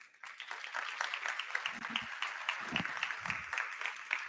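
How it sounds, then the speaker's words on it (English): An audience at a green industrialization dialogue event gives a round of applause, a steady wash of many hands clapping that holds for several seconds and then carries on with no break. "can we have a big round of applause"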